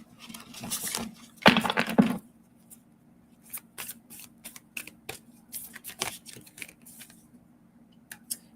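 Oracle cards are shuffled by hand in bursts of papery riffling and soft slaps, with a dense flurry early on and then scattered lighter flicks and taps, close and alone.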